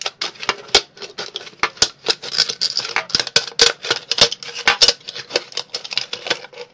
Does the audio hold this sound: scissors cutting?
yes